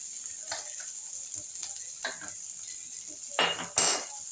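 Chopped onion and green chili drop into hot oil in a pan, giving a soft steady sizzle with a few louder bursts of frying and faint clinks of a utensil, no talk.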